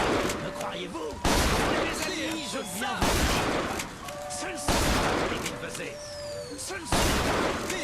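Rapid bursts of gunfire from a weapon in the video game Bioshock Infinite, several sharp loud volleys repeating every second or two amid shattering impacts and game effects, with people talking over the shooting.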